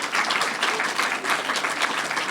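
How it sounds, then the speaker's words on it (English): An audience claps warmly to welcome newly named fellows at a fellowship event, a dense, steady round of applause from many hands that holds evenly throughout without voices. "Let's give them a round of applause."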